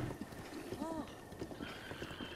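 A horse in the video game Breath of the Wild snorts and gives a short whinny among light hoof clip-clops, set against a low ambient background.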